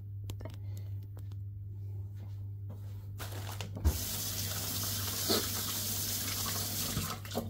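A tap runs steadily into a sink as hands are washed, starting as a faint trickle and then opening into a louder, continuous rush of water with a few small knocks.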